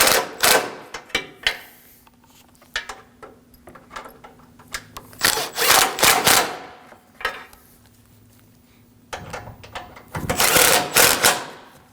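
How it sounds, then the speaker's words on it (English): A power tool runs in repeated bursts, tightening bolts on the front of the frame rails of a 2016-2022 Honda Pilot during a bumper impact absorber replacement, with close, loud rattling runs separated by quieter handling noise. "tighten down the bolts on the front of the frame rails"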